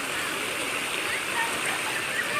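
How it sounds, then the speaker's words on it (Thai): Steady rushing flow of the clear stream at Khlong Maduea waterfall in Nakhon Nayok, Thailand: close, continuous broadband water noise with faint splashing, no talk heard. "น้ำตกจังหวัดนครนายกนั่นเอง"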